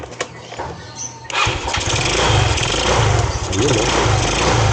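A Rusi motorcycle engine cranks and catches after about a second, then revs rough and loud nearby, holding a buzzing, uneven idle for the rest of the clip.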